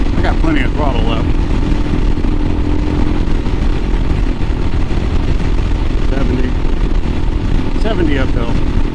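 A 2022 Royal Enfield Himalayan motorcycle climbs a hill at speed, its engine a steady loud drone mixed with heavy wind rush, while a rider talks intermittently over it.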